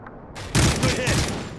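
A single loud sniper rifle shot in the video game Call of Duty Modern Warfare 3 cracks out sharply from a quieter battlefield backdrop, followed by a sustained rumbling echo.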